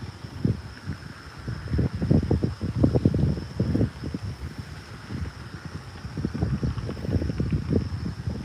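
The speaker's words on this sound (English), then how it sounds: "A little bit windy this morning." Gusty wind buffets a microphone outdoors on a fishing morning, with irregular low rumbling bursts rising and falling throughout, with a faint steady hiss above.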